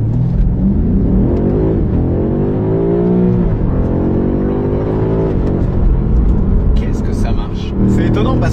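A BMW M5 CS makes a hard launch, its engine revving and rising through the gears with the pitch sweeping up and dropping at each shift, loud and close inside the cabin, with someone talking over it.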